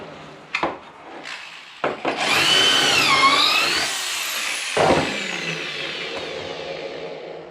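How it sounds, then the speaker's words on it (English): A power drill bores holes into a cedar planter frame, a few short whirring bursts followed by a sustained, pitch-shifting drilling run and a brief final spin, close and loud with no talk. "I go ahead and drill for attaching one side to the next"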